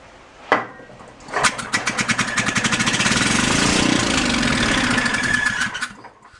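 Old generator engine being pull-started: a sharp tug, then rapid sputtering firing pulses that settle into a steady running buzz for a few seconds before cutting out, loud and close.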